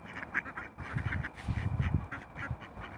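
Domestic ducks and wild ducks quack repeatedly and close by, in overlapping uneven bursts of calls with no talking.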